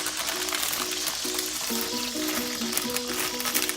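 Onions cook in grease and a little canned broth, giving a loud, steady close sizzle with bubbling. A repeating tonal melody runs underneath, and no one speaks.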